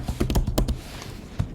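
Keys on a Mac keyboard are typed to enter a Docker command in a terminal: a quick close run of keystrokes, then a pause and one final tap.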